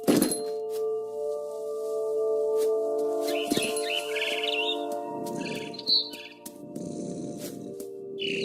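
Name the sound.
barn swallow chirping in the video game What Remains of Edith Finch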